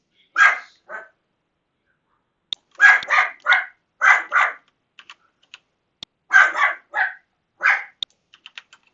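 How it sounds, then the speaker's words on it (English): A long-haired dachshund barks in short bursts, several sharp barks spaced apart over otherwise quiet surroundings, with faint clicking ticks between them. "This is a long-haired dachshund."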